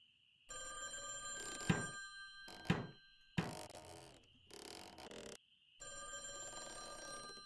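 A motel room phone ringing in the VR game A Chair in a Room: Greenwater: repeated bright electronic ring bursts separated by short silences, with a few hard thunks in between, loud and close, no talking.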